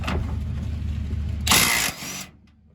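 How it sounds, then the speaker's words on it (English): An impact wrench fitted with a 21mm socket works a rear shock bolt on a 2013 RAM 1500, a short loud burst of rattling hammering lasting under a second over a steady low background hum. "Your impact wrench, get yourself a 21mm socket"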